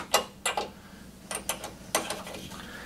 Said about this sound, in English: tighten the spark plug firmly